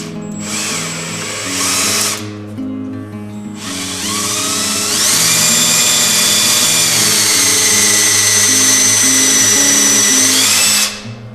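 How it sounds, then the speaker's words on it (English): A power drill with a bit boring into brass for a chef's knife handle, a whining motor that starts and stops briefly, then runs steadily at a high pitch before cutting off near the end. "Just got the drill bit, a little bit of lubrication oil. You don't really need it on the brass"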